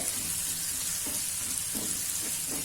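Chopped onion and garlic sauté in hot oil in a pan for masala rice, giving a steady, loud sizzle with soft stirring scrapes that recur at intervals throughout, and no voices.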